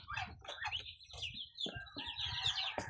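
Young Rhode Island chickens give close, high peeping chirps in quick overlapping bursts, some longer trilling calls among them, over a low background rumble.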